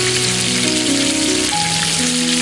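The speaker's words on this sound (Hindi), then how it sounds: "सिंपल हरी मिर्च को इसी तरीके से फ्राई कर लेंगे" Whole green chilies frying in hot oil in a pan, a dense, steady sizzle with crackling spatter, close and continuous, with faint tonal background sounds.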